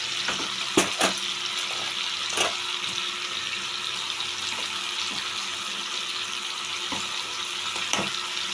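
Spinach paste frying in a pan for palak paneer, a steady close sizzle and crackle with occasional stirring scrapes, no talking.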